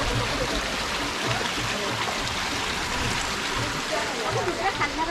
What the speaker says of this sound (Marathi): होय पाण्याचा आवाज छान येतो इकडे.